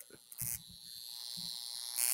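A Rodin coil gives off a faint, steady electrical buzz with arcing, broken by a few short, louder crackling bursts, like an electric shaver.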